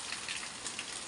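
Heavy rain pours steadily, a dense, even hiss of drops hitting surfaces with no other sounds for about a second.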